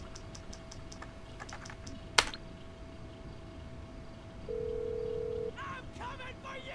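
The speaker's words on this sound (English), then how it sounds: "we should probably make a phone call" Phone dialled in the video game GTA 5 Online: a string of quick, soft keypad beeps, a sharp click, then a steady dial tone held for about a second, with faint background game sounds.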